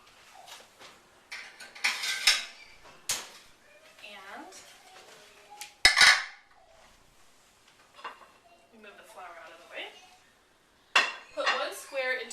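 Metal muffin tin handled in a home kitchen while making stuffed puff pastry, giving intermittent close clanks and clatters among a person's ongoing speech.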